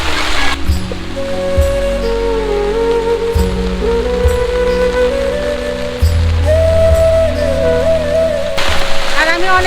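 Heavy rain pours down on a flooded street in a loud, dense, continuous patter, with drops drumming hard on nearby surfaces throughout.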